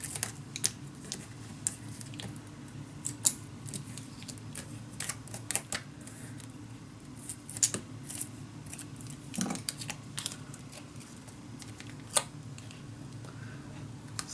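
A paper-craft backing sheet is peeled off in a quiet room, giving scattered crisp crackles, ticks and soft tearing snaps at irregular intervals over a low steady hum.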